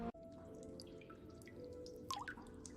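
Water dripping onto soil in a barren, plantless city, a few soft, quiet drips and trickles, close and isolated against a faint background hum.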